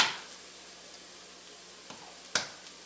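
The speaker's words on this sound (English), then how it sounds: "I just need to bust a couple eggs in here" Eggs cracked into a hot pan for scrambled eggs: a couple of sharp shell taps stand out near the end over a steady faint sizzle, with no talking.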